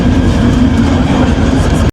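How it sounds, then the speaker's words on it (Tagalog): Riding aboard an LRT light rail train in Kuala Lumpur: a loud, steady rumble of wheels and carriage noise, close and continuous for a couple of seconds, with no voices. "Nakasakay na tayo ng LRT"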